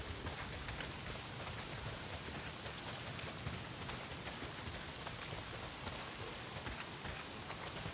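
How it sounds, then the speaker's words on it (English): Heavy rain pours down in the Days Gone video game, a dense, constant hiss of drops at close range filling the scene with no voices. "Well, not if it's pissing down rain."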